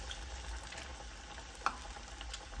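Falafel balls fried in hot oil give a steady, even sizzle and bubbling, with one brief louder crackle partway through and no talking.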